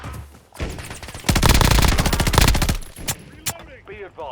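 Gunfire in Call of Duty Warzone during a quads match, with a loud rapid automatic burst lasting over a second, followed by a few sharp single shots and some brief voice-like sounds.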